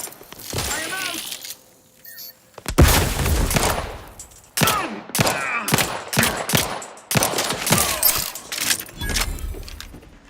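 Sharp bursts of gunfire and impacts from The Outer Worlds 2 come in rapid, loud clusters separated by brief gaps, with voices calling out at times among the shots.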